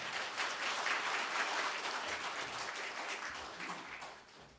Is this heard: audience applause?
yes